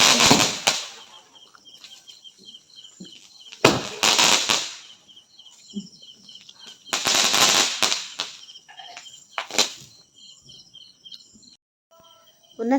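Diwali firecrackers bursting on the last day of the festival: several loud, sharp crackling bursts recur every few seconds, separated by quieter gaps with faint chirping in the background.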